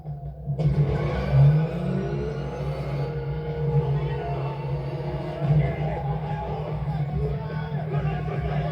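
An armored car speeds through a chase, its engine a steady, loud droning rumble that holds throughout, with faint voices underneath.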